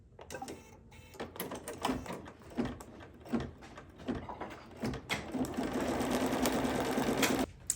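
A sewing machine stitches a placement line in dark blue thread on fabric for a snowman hot pad appliqué, starting in short irregular bursts with handling clatter, then running steadily and loudly for the last few seconds.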